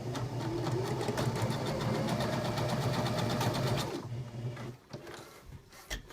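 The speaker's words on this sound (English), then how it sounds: "I'm going to sew forward and back all the way to the edge" A sewing machine stitches fabric forward and back for about four seconds in a steady, fast mechanical whir, then stops, leaving a few faint clicks and handling sounds.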